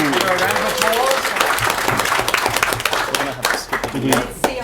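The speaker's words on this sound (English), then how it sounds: "Everyone give her a round of applause." A convention panel audience at PAX Australia 2015 applauds steadily with dense, sustained clapping, while voices talk and cheer over it.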